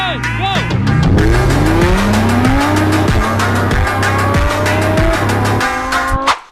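Street race with a Tesla against JDM and muscle cars: loud engines revving and accelerating with rising pitch, tires squealing and skidding, up close and continuous, with voices faintly underneath.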